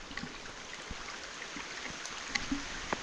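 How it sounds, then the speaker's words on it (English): Steady light rain falling outdoors, a faint continuous patter with scattered individual drips and taps, heard alone and fairly quiet. "with this rain,"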